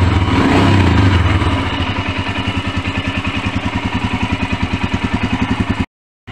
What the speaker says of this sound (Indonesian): Dan suara mesinnya berubah ya.